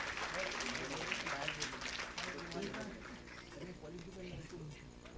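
A crowd claps steadily and densely at a gold-coin lucky draw box opening in a jewellery showroom, Arhan Gold & Diamonds. The applause slowly thins out, and voices talk over it.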